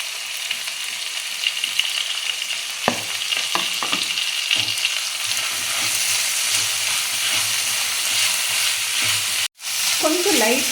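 Chopped onion and coriander stems fry in a pan for red sauce pasta, a steady close sizzle with a few scraping stirs and a brief break near the end.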